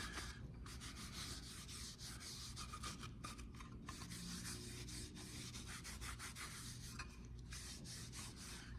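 Cloth rubbing oil finish into a wooden cutting board in a school woodshop, a steady close scrubbing and swishing that runs continuously, with a low hum of shop background underneath.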